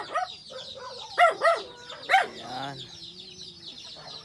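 A native hen clucks and calls in short bursts among her eight chicks, with soft peeping and brief talk nearby, fairly close and clear against a quiet background.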